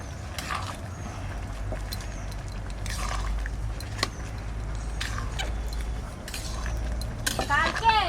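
Small mixed fish and rice with salt stirred in a pot, a spoon scraping and clinking against the metal in irregular strokes over a low steady background, with faint voices at moments.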